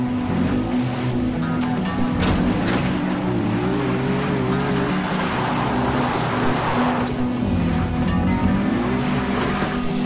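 A vehicle in Far Cry 4 ploughs through a pond, a continuous loud engine drone mixed with sloshing, surf-like water noise that holds steady throughout.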